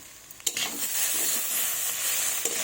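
Papaya and drumstick curry sizzles in a pan while being stirred, with a couple of sharp scraping knocks over a continuous close hiss and no speech.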